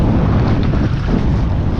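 Waves slap and wash continuously on the water at Baseco, Manila, a steady close rumble mixed with wind buffeting the microphone, with no voices.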